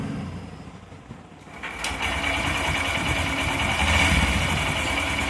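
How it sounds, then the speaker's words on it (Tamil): A Honda Shine motorcycle engine starts after a quiet moment and settles into a steady, fairly loud idle with an even mechanical hum and fine ticking, close by and alone. "நான் வண்டி ஸ்டார்ட் பண்ணுறேன்"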